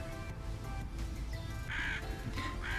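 Raven cawing from nearby, several harsh caws in short bursts over a steady murmur of background noise.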